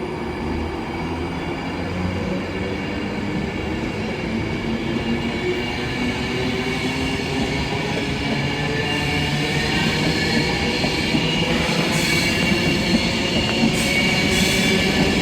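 A Virgin Class 390 train departs Stockport station on the West Coast Main Line Manchester branch, bound for Manchester Piccadilly, with a steady rumble of wheels and traction building slightly louder over about fifteen seconds, close by and without talk.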